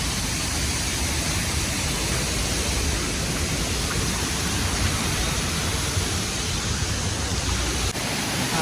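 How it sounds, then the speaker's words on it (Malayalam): A waterfall pours in a dense, unbroken roar that fills the whole clip, close and steady with no voices. "വെള്ളച്ചാട്ടം"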